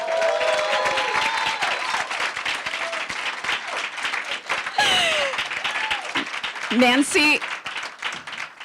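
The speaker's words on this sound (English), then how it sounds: "all that applause, she needs no introduction" Steady audience applause at a Rutgers University higher-education forum, dense sustained clapping filling the room as a speaker's voice talks over it and a brief feedback squeal rises near the end.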